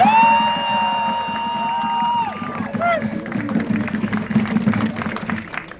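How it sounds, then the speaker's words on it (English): Crowd applause and cheering at an outdoor rally in Cortlandt, New York, starting after a tonal sound fades and then swelling into sustained clapping and whoops. "Give her another round of applause."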